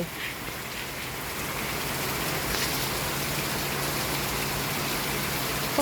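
Heavy rain pours down in a steady, dense hiss with no breaks, moderately loud and unbroken by any voices.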